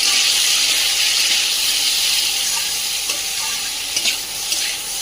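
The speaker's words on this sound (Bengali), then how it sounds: "তো এদিকে আলুগুলো হালকা করে একটু ভেজে নিয়েছি।" Potatoes with chopped tomato, turmeric and salt fry lightly in a pan, a loud continuous close sizzle and hiss with occasional stirring scrapes toward the end, no speech.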